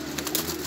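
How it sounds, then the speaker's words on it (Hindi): A short racing pigeon coo, soft and close, rising and falling once over a low background hum. "बड़ा पुराना जौंसरा कबूतर है चौधरी वकार वाला"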